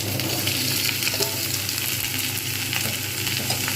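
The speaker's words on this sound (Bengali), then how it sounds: "এইবারে আমি এর মধ্যে দিয়ে দেবো কচুগুলো কেন কচুর সঙ্গেও পেঁয়াজটা কিন্তু কিছুটা পরিমাণ ভাজা হবে" Taro pieces fry and get stirred with onions in a pan, a continuous close sizzle with scraping stir sounds running throughout, no voices.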